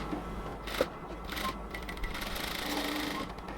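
A sewing machine stitches a cotton kameez with a soft, continuous mechanical whir and faint ticking taps, running steadily at close range with no speech.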